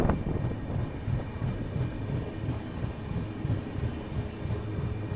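Cold wind rushes in at the open door of a moving express train in fog, a loud steady roar mixed with rhythmic low rumbling and clatter from the carriage, with no talking.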